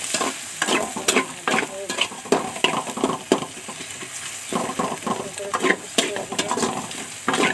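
Spices hit food frying in a pan, bringing loud sizzling and frequent scraping stirs with a spoon in irregular bursts, up close, with a faint voice now and then.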